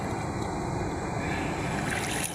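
Strong current of a muddy, swollen river after a typhoon, a continuous broad rushing wash of water, loud and steady throughout.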